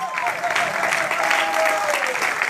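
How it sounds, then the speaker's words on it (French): An audience at a French comedy stage show applauds three young performers, a dense, even roar of clapping that holds steady and loud throughout, with a voice faintly over it. "On va faire un tonnerre d'applaudissements pour ces 3 jeunes"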